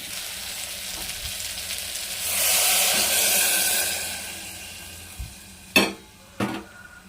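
Ingredients for coconut biryani fry in a pan, with a sizzling hiss that swells and fades, followed by a few close metallic clinks of stirring.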